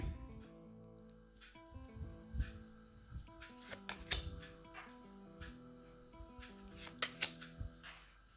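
Tarot-style playing cards are laid out one by one on a table, giving soft, close taps and slides in an irregular sequence with quiet rustling between placements.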